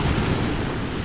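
Ocean surf at Rock Beach, Pondicherry, a brief steady wash of broadband wave noise roughened by wind across the microphone, no voices.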